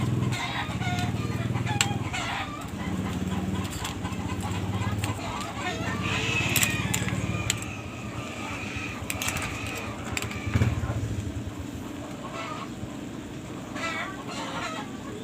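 Chickens cluck and call around a busy yard, with a rooster-like crow at times and people talking over the flock.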